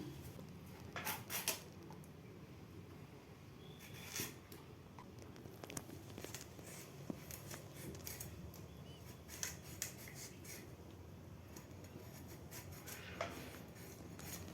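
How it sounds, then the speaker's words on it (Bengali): An ash gourd (chaal kumro) is being cut with a knife in a kitchen: quiet scraping and crisp slicing strokes come in scattered bursts over a soft, steady background. "এবার আমি এই কুমড়োটাকে কেটে নেব।"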